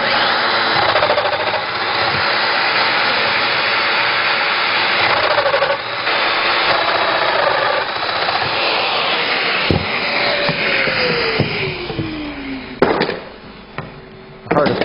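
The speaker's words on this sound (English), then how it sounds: "I'm just going to work off some of the other pins that are on here and make more mortises" Festool Domino XL joiner cutting mortises into wood, a steady loud motor whine that holds for most of the stretch, then drops off near the end into brief bursts and gaps.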